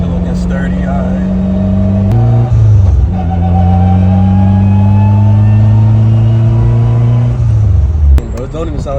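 A 500-horsepower Honda Civic engine revs hard with a deep, steady drone, rising and falling across several long pulls, loud and close with people talking over it.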